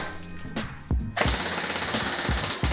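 A Krytac Kriss Vector airsoft gun on an 11.1V LiPo battery fires a few single shots, then a rapid full-auto burst of sharp, evenly spaced mechanical clicks, very close and loud, with no talking.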